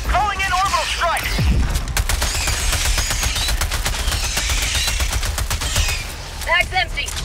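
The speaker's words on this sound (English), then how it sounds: "Calling in orbital strike." Orbital strike barrage in Helldivers 2 during a four-player Helldive mission on Trandor, a dense, continuous roar of rapid blasts and gunfire lasting throughout, with game voice lines and chirpy radio effects layered over the start and end.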